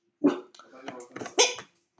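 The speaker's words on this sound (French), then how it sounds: "Non, tu jappes pas quand il n'y a rien." A dog barks near a person working with horses, several close, loud yappy barks and whimpering yips in quick succession over about two seconds.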